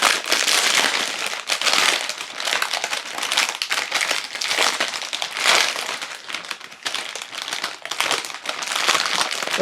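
A clear plastic bag wrapping a Zaghis Pandorino loaf is torn open and handled, loud, close crinkling and crackling in repeated bursts that continue throughout.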